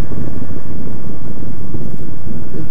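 Laro Pro Street 350 fuel-injected parallel-twin motorcycle accelerating uphill, a loud continuous low engine drone mixed with heavy wind buffeting.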